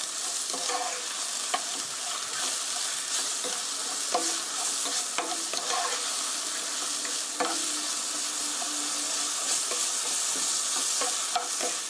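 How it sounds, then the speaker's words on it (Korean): Shiitake mushrooms stir-frying with black pepper in a pan, a steady close sizzle with occasional scraping and clinks of a utensil against the pan. "3분 정도 볶았더니 이렇게 맛있게 볶아졌습니다."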